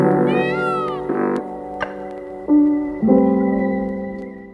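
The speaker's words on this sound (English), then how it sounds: "every once in a while you just hear the sound of the peacocks" Free-roaming peacocks in Bagatelle park, Paris, give a few loud, wailing, meow-like calls, some rising and falling, over a quiet outdoor background.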